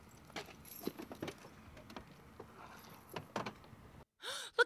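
Car keys jangle in an audio drama, a run of small metallic clinks and rattles scattered over a few seconds at moderate distance, then a sudden gap and a short voiced gasp at the end.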